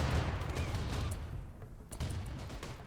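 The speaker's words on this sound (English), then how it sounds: "Shoot that cannon." Rocket artillery cannon fire in the Rimworld video game, a burst of rumbling, crackling blasts with a second surge near the end, loud and dense with no voices.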